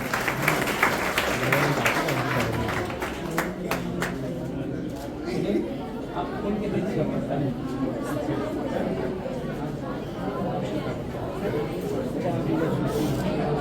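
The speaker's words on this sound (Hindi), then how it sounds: "एक बार तालियां बजाइए भाई उनके लिए।" An audience at a school meditation program claps together, a sustained patter of applause mixed with crowd chatter and a voice speaking over it.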